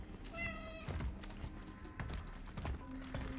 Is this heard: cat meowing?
yes